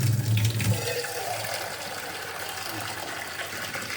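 Hot water pours steadily into a pot of dal, making a close, continuous splashing gush that starts fuller and settles into an even flow for a few seconds.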